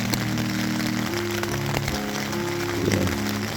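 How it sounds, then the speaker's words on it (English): Steady rain falls on the Appalachian Trail on a wet morning, a continuous even patter close by with a low hum underneath. "It's raining out."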